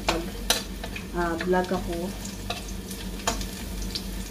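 Onion fries in a pan for spaghetti tomato sauce, giving a continuous sizzle with utensil scrapes and stirring clatter, while a person talks briefly over it.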